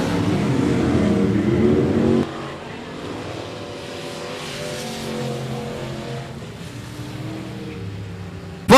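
Limited modified race cars roar around a speedway, engines droning steadily in the distance with a louder rush early that fades to a lower, more distant hum before a sudden burst of noise at the end.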